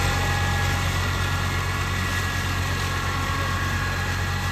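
A tractor engine running steadily at a constant loud drone with deep low rumble and a continuous hum, no pauses and no talking.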